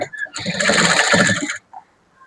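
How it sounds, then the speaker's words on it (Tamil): Sewing machine stitching a blouse neckline, a single short burst of rapid mechanical whirring lasting about a second, close and fairly loud, then near silence. "மார்க் பண்ண இடத்த அப்படியே மடக்கி பிடிச்சி 1/2 இன்ச்சில் தையல் போடுங்க"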